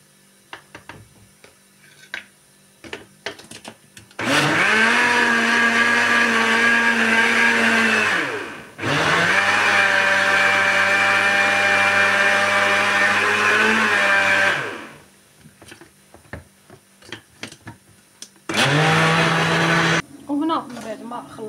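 An electric blender whirs loudly through volcano cake batter in three bursts, two long runs and a short final one, with kitchen clatter and someone talking in the quiet gaps.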